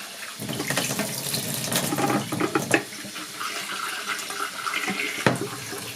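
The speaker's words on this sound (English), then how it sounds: "You see water just goes in the top." Tap water runs and splashes into a film developing tank for rinsing, a continuous gurgling rush with a few sharper splashes and clunks, close up and with no talking.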